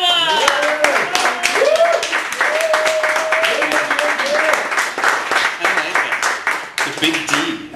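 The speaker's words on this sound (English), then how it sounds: "Please, everybody, give one big, huge round of applause for a great feature from" Applause and cheering from a cafe audience in Chicago welcoming a poet to the stage for a feature reading, sustained dense clapping throughout with voices and whoops mixed in, close and loud.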